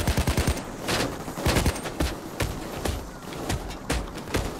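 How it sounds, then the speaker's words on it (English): Gunfire in a Payday 2 heist sounds as irregular loud bursts of shots, some clustered rapidly and others spaced apart, close and punchy, with a faint voice in places. "What is shooting me?"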